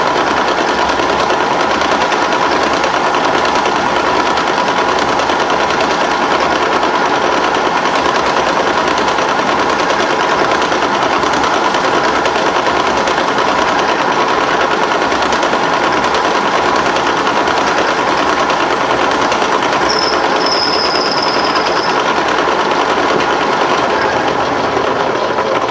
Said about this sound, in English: we're going to drill through with this 1/4 inch